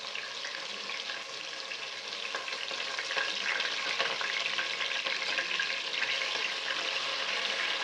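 Ginger-garlic paste, cumin, sambar paste and green chillies sautéed for a Nagpuri-style prawn curry, a steady bright sizzle with stirring scrapes that grows a little louder midway, close and continuous, with no talking.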